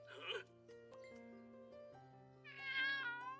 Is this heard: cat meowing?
yes